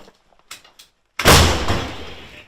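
A single heavy, booming blast from a 155 mm M109 Paladin self-propelled howitzer erupts suddenly after a few quiet knocks, followed by a long rumbling roar that slowly fades, near Pokrovsk.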